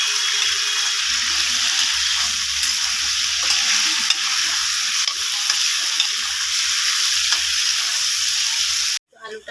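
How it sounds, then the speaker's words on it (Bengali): Potatoes frying in oil in a home kitchen, a steady loud sizzle with intermittent stirring scrapes, continuous and close until it cuts off near the end. "এখন আমি আলুটাকে ভেজে নেব লাল করে ভালো করে।"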